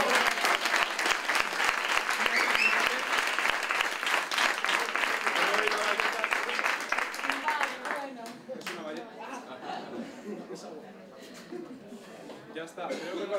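An audience at a physics league science event bursts into loud, dense applause that holds for about eight seconds, then thins into scattered claps and murmuring voices, with some talk near the end.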